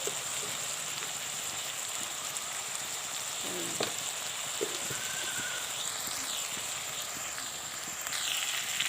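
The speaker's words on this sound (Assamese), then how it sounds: "এতিয়া মাংসটো মই 6-7 মিনিটমান সময় ভাজি ল'লোঁ" Meat, a local chicken, frying in a pan for an Assamese curry, a steady close sizzle with faint crackles and occasional spoon stirs, no one talking.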